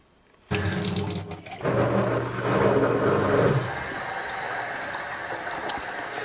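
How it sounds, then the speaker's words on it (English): Upflush toilet in a newly built home bathroom, heard as a loud, steady rush of running water and hiss that starts abruptly and continues for several seconds with no talk over it. "If you just heard that, that was my up flush toilet."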